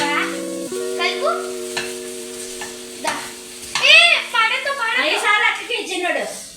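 Cabbage frying in a pan as a grandchild cooks at home, with stirring scrapes and a soft sizzle building after the first seconds, under and between voices talking.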